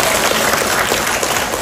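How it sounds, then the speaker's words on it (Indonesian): Audience applause for the women of the PKK neighborhood group at a humorous Islamic sermon, a dense, steady burst of many hands clapping throughout, loud and close with no voice over it. "Tepuk tangan buat ibu-ibu PKK."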